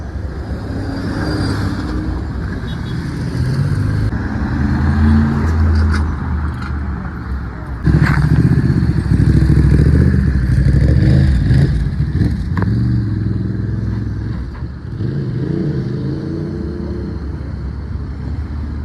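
A Ferrari 812 GTS with a V12 engine passes along a Paris street, a loud, sustained roar that swells midway and holds among traffic noise and people talking nearby.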